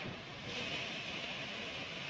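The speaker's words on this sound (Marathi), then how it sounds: "ट्विन धबधबा म्हणून आहे" Rushing water from a twin waterfall at Chingewadi, Karjat: a steady, dense roar of falling water that fills the whole short stretch with no breaks and no voices.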